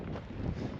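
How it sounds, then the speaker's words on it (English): Wind buffeting a microphone on a mountaintop during a storm, a low, continuous roar with rumbling gusts, brief and fairly loud, with no voices. "So it is windy as hell though."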